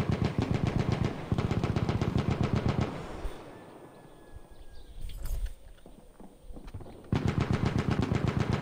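Sustained machine gun fire from a Battlefield 1 firefight, loud, close and rapid, breaking off for a few seconds of quieter rumble and scattered battlefield noise before the bursts resume.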